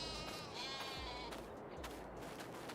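Sheep bleating in the Farming Simulator 22 video game, several overlapping wavering bleats sounding close and fairly loud over a steady background hum, with no speech.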